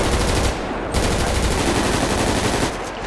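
Rapid automatic gunfire from a GTA 5 roleplay shootout in a favela, dense sustained bursts of shots that run almost without pause, loud and close, with no talk over them.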